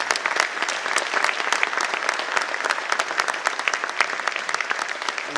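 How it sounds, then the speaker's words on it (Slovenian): Sustained applause for an orchestra at a Slovenian Armed Forces concert event, with a large audience clapping densely and evenly and many sharp individual claps that keep up an unbroken texture. "si res zasluži tudi ten poseben aplavz orkestru"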